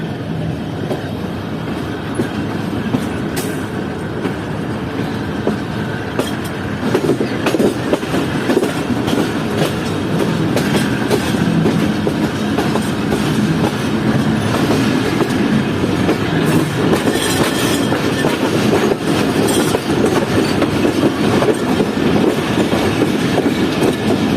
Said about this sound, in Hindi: तो ठीक 6:55 पर डिपार्ट किया है ट्रेन ने।